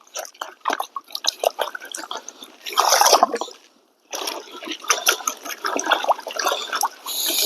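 Water sloshing and dripping as a gold pan of rocks is swirled and rinsed, with irregular splashes, a brief pause, then continued washing close by.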